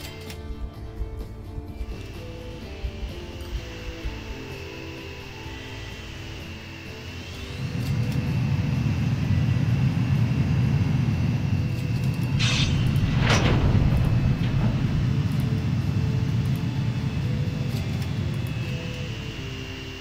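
Airplanes around Cologne in the transport game Transport Fever: a quiet stretch gives way to a broad, steady engine roar that swells in and holds loud, with brief sharper bursts partway through and no talking.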